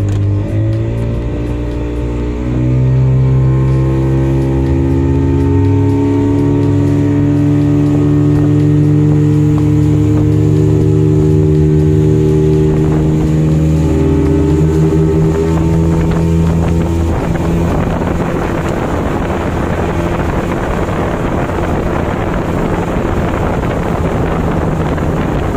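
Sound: speedboat with two 40 PK outboard engines running

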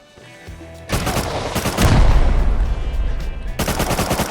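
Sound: gunfire in the video game Rust

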